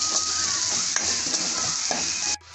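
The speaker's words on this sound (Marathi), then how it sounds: "आता परतून घेऊया मसाला" Ground spice masala of turmeric, coriander powder and Agri masala sautéing over low heat in a pan for a sukat kalvan, with a steady broadband sizzle, occasional stirring scrapes throughout, then a sudden drop near the end.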